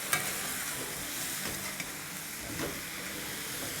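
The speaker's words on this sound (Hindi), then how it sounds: "इसको हिला लेंगे" A mixture of rice vinegar and soy sauce being stirred in a hot pan with potato fries, giving a soft continuous sizzle and hiss with a few faint utensil scrapes, close and without speech.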